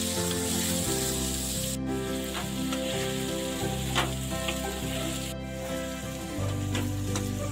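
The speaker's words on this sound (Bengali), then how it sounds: "আলু পিসগুলোকে হালকা ব্রাউন করে ভেজে নেব" Steady, close sizzling of salted, turmeric-coated potato pieces frying in hot oil in a wok until lightly browned, a continuous crackle with occasional stirring scrapes and a low hum underneath.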